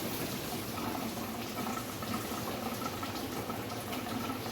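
Coolant from a 1974.5 MGB lower radiator hose pours out in a steady, close, continuous liquid rush, with no voices.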